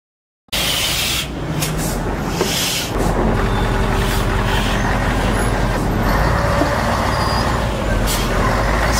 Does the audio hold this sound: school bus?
yes